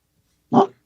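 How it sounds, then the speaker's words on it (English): A single short dog bark at a dog park, close and fairly loud, after a moment of near silence. "So if you hear the barking"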